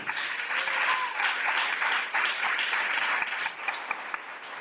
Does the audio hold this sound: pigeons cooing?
no